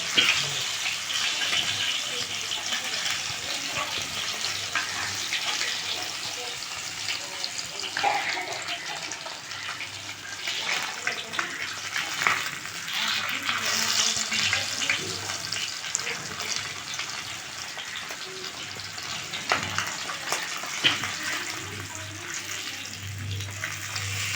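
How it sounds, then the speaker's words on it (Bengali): Pieces of rui fish fry lightly in oil, giving a continuous, even hiss and sizzle that holds steady throughout at moderate loudness. "এই হালকা করে করেই সব মাছ কটা ভেজে নেব"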